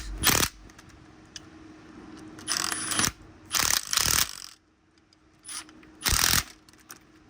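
A worn original wheel bearing from an Audi A6 C7 TDI, 216,000 miles, spins, giving repeated bursts of grinding, whirring mechanical noise over a steady low hum, coming in uneven surges close by.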